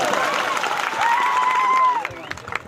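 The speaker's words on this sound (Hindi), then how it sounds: "एक बार जोरदार तालियां बजाते हैं।" A crowd at a World Indigenous Day gathering in Bhikangaon, Khargone, claps loudly and cheers for a welcomed guest, and a long sustained shout rises above the applause midway before the noise thins out.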